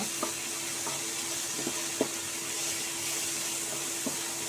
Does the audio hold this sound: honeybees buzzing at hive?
no